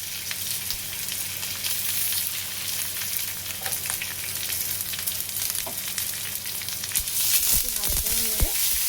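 Curry leaves and a few chillies spit and sizzle in hot oil for a dhokla tempering, a loud, continuous crackling hiss close by, with a couple of stirring scrapes toward the end.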